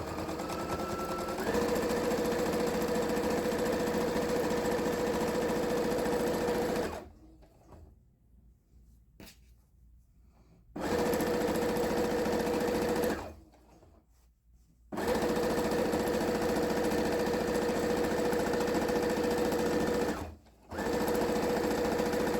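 A sewing machine stitches diagonal quilting lines across fabric to form a diamond pattern, running in steady, even bursts of several seconds with short quiet pauses between passes.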